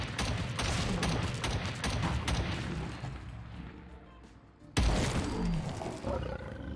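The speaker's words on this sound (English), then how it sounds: "Let's see how we do with a fully upgraded semi-auto version of the weapon." Fully upgraded semi-auto rifle from a Fallout 4 mod firing a quick series of sharp, loud shots, then a lull and one more heavy blast with a ringing tail.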